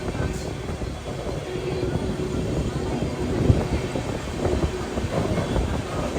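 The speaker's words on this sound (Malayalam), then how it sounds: "ട്രെയിൻ ഇപ്പോൾ വിലേപാർലെ സ്റ്റേഷനിലേക്ക് എത്തിക്കൊണ്ടിരിക്കുകയാണ്" Gujarat Mail train arriving at Vile Parle station in Mumbai at night, a moderate rolling rumble rising and falling over several seconds, with a brief knock midway and some background noise.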